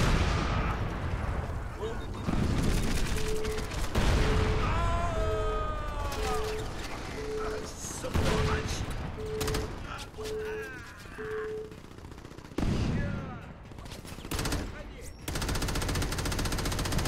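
Heavy explosions from grenades mixed with automatic gunfire in the Xbox 360 game Crackdown, loud booming blasts and rattling bursts continuing throughout, with a repeating beeping tone and whistling whines in between.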